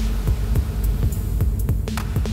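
Deep rhythmic thumps run through a wide reverb effect in Bitwig, each pulse trailing a broad, roomy tail over a low sustained hum, repeating at an even, heartbeat-like pace.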